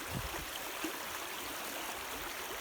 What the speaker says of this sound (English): And this is Kerbin Brook, otherwise known on the map as Winter Brook.